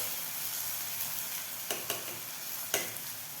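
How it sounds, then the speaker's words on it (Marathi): Chopped onion frying in a pan for chana masala, a steady soft sizzle with a few light stirring clicks from a spatula, close and alone. "इथे कांदा छान आपल्याला हलकासा सोनेरी रंग येईपर्यंत परतून घ्यायचा आहे"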